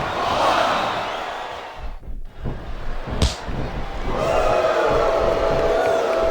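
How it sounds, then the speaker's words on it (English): Arena crowd noise from a capacity audience in WWE SmackDown vs Raw 2007, a steady broad roar that dips briefly mid-clip, spikes with a sharp hit, then swells back with cheering and a sustained tone. "This capacity crowd is making their opinions known tonight."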